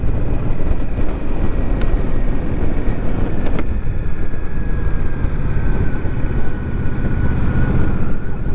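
Wind rushes past a rider on an Indian Scout Rogue Sixty cruiser with a solo seat and small windscreen, a loud, constant roaring buffet with deep rumble that fills the whole stretch.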